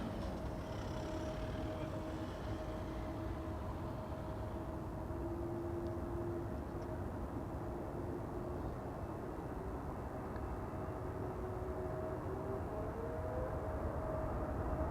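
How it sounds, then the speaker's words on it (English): A KLM Embraer 175 arrives at Amsterdam Schiphol, a steady broad jet roar that stays loud throughout with a faint whining tone gliding slightly upward near the end. "KLM flight 1284, Embraer 175 arriving from Aalborg."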